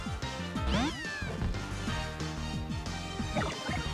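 Alola Meowth's cry in the Pokémon Moon video game: a short, synthesized cat-like meow with rising and falling pitch sweeps, played over continuous in-game background music, with a second quieter call near the end.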